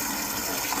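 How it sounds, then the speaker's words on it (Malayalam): Water poured over live varal fish, a short continuous gushing splash with no speech. "വാ, വെള്ളം ഒഴിച്ച് നോക്കാം."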